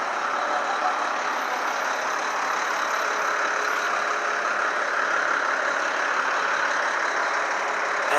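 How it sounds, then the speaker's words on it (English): A garbage truck idles nearby with a steady broadband engine rumble and hiss, continuous and even for the whole stretch, with no voices. "The garbage truck came."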